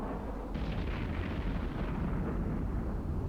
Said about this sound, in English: Another one explodes.